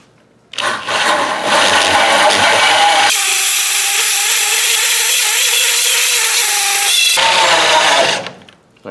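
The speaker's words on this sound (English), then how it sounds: "finish sawing the rest of the diameter of this disc" A hole saw grinds through a disc of material in one continuous, loud cut lasting about seven seconds, its pitch and tone shifting partway as the bite changes, then spinning down at the end; no talking.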